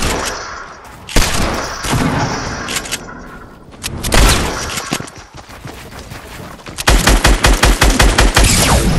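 Fortnite gunfire: loud, close bursts of rapid automatic shots, with single heavy shots and thumps between them and a long rattling volley at the end.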